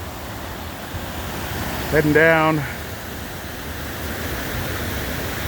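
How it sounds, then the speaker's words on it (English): Waterfall at Dunn's Falls in Maine: a steady, broad rush of falling water fills the whole stretch, with a brief spoken voice over it near the middle. "Waterfall."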